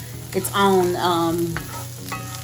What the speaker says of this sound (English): So just sauteing those onions up.